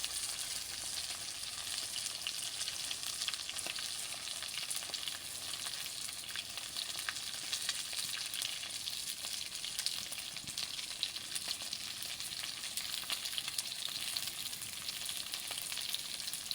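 Fish and eggplant curry frying on a clay stove, a steady soft sizzle that holds evenly throughout with no voices.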